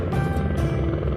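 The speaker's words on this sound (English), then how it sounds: "The best part about flying in a helicopter is in a matter of moments you can get somewhere" A helicopter in flight over remote Alaskan backcountry, its dense rotor and engine drone heard from inside the cabin, loud, steady and unbroken.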